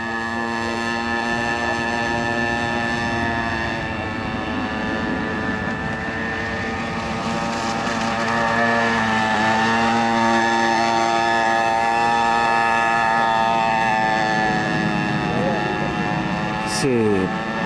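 A model boat's two-stroke glow engine running on 15% nitromethane fuel screams at a steady high pitch across the water, droning continuously with slight pitch shifts, wind buffeting the microphone throughout.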